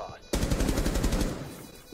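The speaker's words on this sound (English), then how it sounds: "I think I shot my teammate." A sudden burst of rapid automatic gunfire in Rainbow Six Siege, a loud run of close, evenly spaced shots that starts abruptly and fades out after about a second, with no talk over it.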